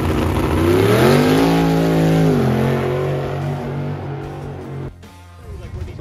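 A powerful drag race car engine revs loudly at a drag strip event, its pitch rising and holding in a sustained roar before cutting off abruptly near the end.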